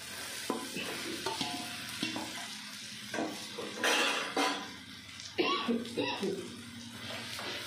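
Fried potatoes and soybeans tipped into cooked masala and stirred in a pan, with a close sizzle, repeated scraping and clinking of a spoon against metal, and bursts of louder frying between strokes.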